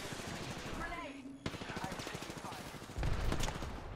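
Rapid automatic gunfire rattles in the shooter game Apex Legends, with dense bursts of shots, a sharp crack midway and a heavier burst near the end.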